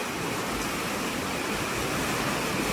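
Water gushes out of a reservoir spillway in Kalasin, Thailand, a continuous loud, even rushing roar with no pauses and no voices.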